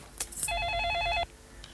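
A phone trills through an electronic ringing tone during an outgoing call, one steady ring burst of under a second, fairly loud and near, with brief clicks before it and no speech.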